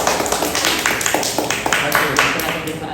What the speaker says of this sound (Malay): Berikan tepukan semua.